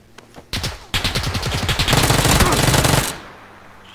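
Rapid automatic gunfire from the video game PUBG, a dense burst of rattling shots after a few scattered single shots, loud and close, running about two seconds before cutting off.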